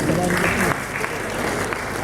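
Audience applause for a pitch presenter at a networking hub event, steady clapping from a crowd with a voice briefly heard over it near the start.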